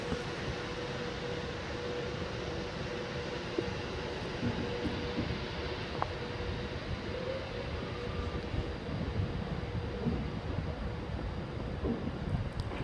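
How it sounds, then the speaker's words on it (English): Pendolino express train departing a station platform, a steady broad rumble with wind-like noise and a faint tonal whine holding across the whole stretch, moderately distant and without talk. "as this Pendolino here departs"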